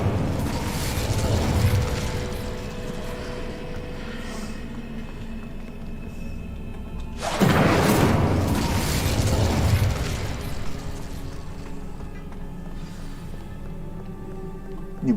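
Casting the Incendio fire spell in Hogwarts Legacy produces a sustained roaring, crackling burst that swells loudly partway through, set within dense game noise and effects.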